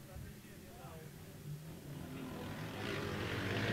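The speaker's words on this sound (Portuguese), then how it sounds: "Motores roncando." Velocross motorcycle engines rumble faintly on a dirt track, building into a louder roar toward the end, with voices underneath.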